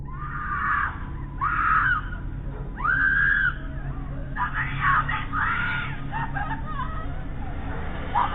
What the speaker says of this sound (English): Her voice could be heard screaming for help from a distance.